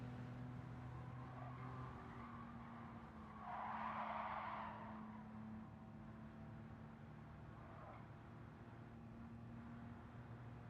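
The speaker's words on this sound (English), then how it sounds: "This is what a car with actual tires on it feels and sounds like." Tires squeal in the Gran Turismo 7 racing game as a car skids through a corner, a short screech rising over a steady engine drone, with fainter squeals later.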